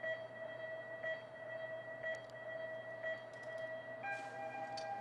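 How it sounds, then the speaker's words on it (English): Electronic countdown tones before a UCI Hour Record track cycling ride, a series of faint evenly spaced beeps about one second apart, with a final higher start tone, over steady venue hum. "then you'll hear tones from 5 down to 1, and then the start tone will be a different tone"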